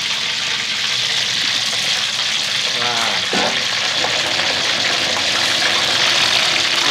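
Whole fish deep-frying in hot oil, a steady loud crackling sizzle that fills the clip, with a brief clatter partway through and no speech.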